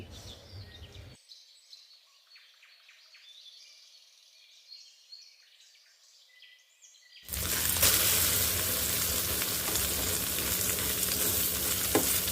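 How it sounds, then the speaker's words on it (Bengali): Eggs frying in a home kitchen pan as a start to khichuri, a loud, steady close sizzle that starts suddenly after a quieter stretch of faint clinks and room noise. "প্রথমে ডিমগুলোকে আমি ভেজে নিচ্ছি"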